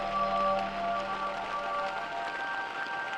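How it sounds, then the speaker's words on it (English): Heavy rain falls in Ethiopia's Simien Mountains, a dense, steady hiss that holds constant without breaks, with faint tonal hum underneath. "from this dense cloud comes some of the heaviest rain in Ethiopia"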